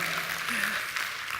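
Steady, dense clapping from an audience, continuous and even throughout, heard from a little distance.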